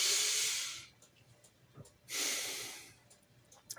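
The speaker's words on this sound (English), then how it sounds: "Breathe in." A deep inhalation, close and clearly audible, is followed by a quiet pause and then a second long breath, both with a breathy hiss.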